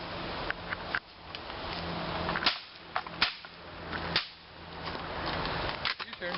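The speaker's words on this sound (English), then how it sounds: "gonna take a couple shots at this freaking shotgun" An airsoft shotgun fires several sharp, snappy cracks spaced a second or so apart outdoors, close and loud against faint background noise.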